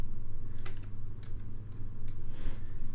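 A computer keyboard key pressed during video editing, heard as a few sharp, isolated clicks over a low steady hum.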